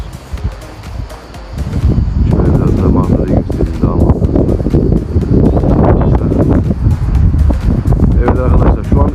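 Wind rushes and roars across the microphone in heavy, continuous gusts, with a person speaking underneath, beside Toparlar Waterfall in Köyceğiz, Turkey.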